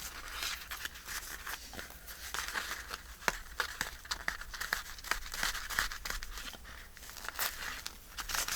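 Paper being peeled off a junk journal page, a continuous crinkling and tearing rustle close up, with irregular sharp rips and crackles.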